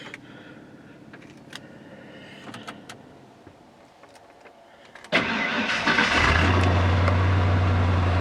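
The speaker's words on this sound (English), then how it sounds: "Just a few turnovers from the starter drive onto the ring gear, and then away she went" A truck that sat for two months over winter starts up: a short whir as the starter cranks, then the engine catches with a loud roar and settles into a steady idle, after quiet clicks and handling noises.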